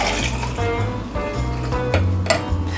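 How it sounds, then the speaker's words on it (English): Fresh celery juice pours from a measuring cup into a second glass, a close liquid splash and trickle broken by a few light knocks of glass and cup, with no voices. "Pour in a second glass."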